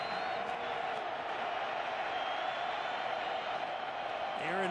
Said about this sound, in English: Crowd rises to its feet once again.